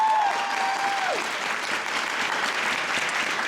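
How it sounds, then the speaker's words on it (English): Steady applause from a convention panel audience for a young woman named Lavinia, a dense even wash of clapping that carries through the whole stretch, with a brief whistle-like tone near the start. "A round of applause for Lavinia"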